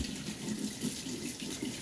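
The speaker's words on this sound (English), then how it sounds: "Next, I'm going to take some hot water." Hot water runs steadily from a kitchen tap, a constant close splashing rush without voices.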